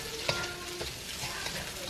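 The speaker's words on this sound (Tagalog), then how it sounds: "Ilagay natin ang carrots." Carrots tossed into a pan of frying pancit noodles set off a steady, close sizzle that runs the whole time, with faint stirring clinks and no talking.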